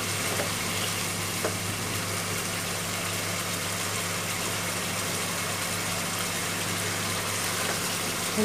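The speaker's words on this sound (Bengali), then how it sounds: "পনিরটা ভালো করে কষাইতে হবে" Chicken liver sautéing in a pan gives a steady, even sizzle and crackle that holds for the whole stretch, with no talking over it.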